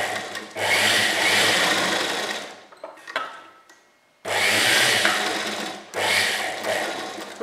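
A sewing machine stitches pieces of kurti fabric in loud, fast runs, stops briefly for a couple of soft handling sounds, then sews two more bursts at a close distance with no talking.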